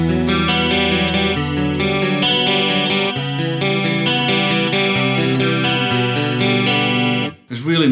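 Jackson Juggernaut ET6 electric guitar played clean through a chorus effect, ringing shimmering chords with a chimey top end that sustain steadily and loudly before a brief pause and a short new strum at the end.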